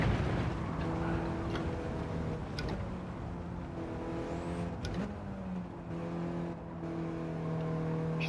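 A 1996 Mitsubishi Lancer Evolution IV GSR in Gran Turismo 7 drives the Nurburgring, its engine whine holding steady and shifting pitch as the car accelerates and brakes, with brief spikes of tyre and impact noise.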